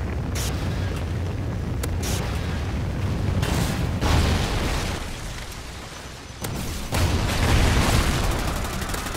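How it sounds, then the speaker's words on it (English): A Trinity rocket strike detonates in Call of Duty: Ghosts during a Blitz multiplayer match, producing a run of heavy, loud booms and rumbling blasts that roll on for several seconds with no voices. "Trinity rocket inbound"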